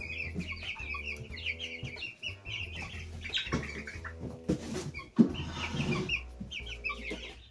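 Young Bresse chickens cluck and chatter indoors, a busy overlapping flock close by, with a short burst of flapping wings partway through.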